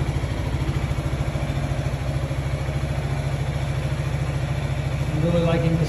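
A 2022 Yamaha Xmax 300 scooter engine running, a steady close rhythmic putter at idle that swells slightly near the end.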